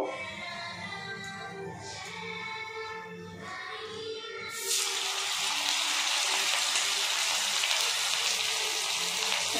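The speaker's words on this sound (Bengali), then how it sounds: "যার পর এর মধ্যে 1-2টো করে ভেজে নেব" Stale rice pakoras dropped one or two at a time into a little hot oil in a pan over medium-low heat, a soft bubbling at first that jumps to a loud, steady hissing sizzle partway through.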